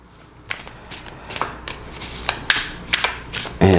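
Tarot cards being shuffled in quick, papery riffles and slaps, close by and fairly quiet, with a sharper knock near the end.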